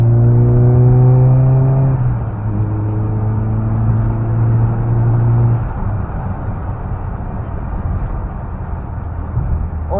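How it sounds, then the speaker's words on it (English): Volkswagen Golf fitted with an aftermarket exhaust, its engine revving loudly up close in two rising pulls with droning harmonics, then settling into a rougher, lower rumble. "But now it has this exhaust,"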